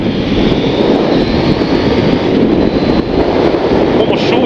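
A KTM 890 Duke GP 2023 motorcycle engine revs hard and accelerates while climbing the Jaizkibel road, a loud steady roar with wind rush that holds for the whole stretch.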